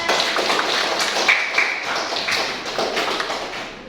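A class of students applauding together at the end of a lesson, a dense, steady patter of many hands clapping at once, close and fairly loud throughout.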